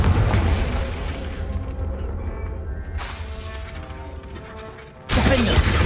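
Confringo blasting spell in the Hogwarts Legacy video game: a loud, sustained booming burst with rumbling debris that fades over several seconds, then a second sharp blast near the end.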